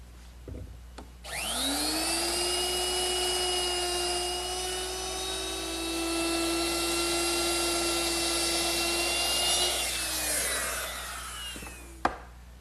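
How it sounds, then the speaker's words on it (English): A router fitted with a 3/8 inch beading bit rounds the corners of wooden table legs, whining at a steady high pitch for about nine seconds before spinning down, with a clunk at the end. "I'm going to use my router, which is equipped with a 3/8 inch beading bit."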